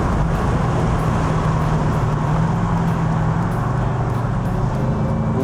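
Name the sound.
Mercedes SLK55 AMG exhaust burbles on off throttle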